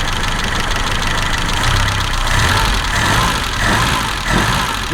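A BMW 2002 car engine idles steadily and close by on its carburettor, with a continuous low rumble and slight ticking throughout.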